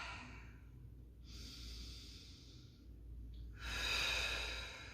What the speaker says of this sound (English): Taking some deep breaths in and out.